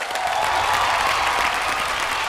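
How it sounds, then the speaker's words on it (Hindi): Studio audience at a television comedy show bursts into loud, continuous applause, a dense wall of clapping hands with a few cheers, filling the whole moment with little talk. "नसीम, पूजा और श्रुति के लिए जोरदार तालियां हो जाए"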